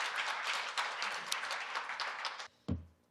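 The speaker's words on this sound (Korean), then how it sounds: "조정희 대표 변호사님께 큰 박수 부탁드립니다." An audience at an AI forum applauds steadily for about two and a half seconds, a dense patter of many hands that cuts off abruptly, followed by a brief single thump.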